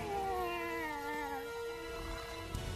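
A cartoon cat gives a long, wavering meow that slides downward in pitch, almost a caterwaul. It is loud and alone over a faint background rumble in an animated superhero battle scene.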